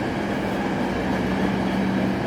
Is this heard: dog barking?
no